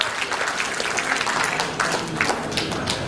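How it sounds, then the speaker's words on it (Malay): Audience applause fills the room, a steady, dense patter of many hands clapping with no break, fairly loud and even throughout. "Satu tepukan borong untuk beliau."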